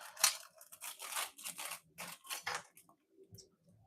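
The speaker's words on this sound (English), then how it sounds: "scissors." Scissors snipping open a packet of reduced smoked pork sausage in a home kitchen, a quick run of sharp close cuts and rustles, then a few fainter snips.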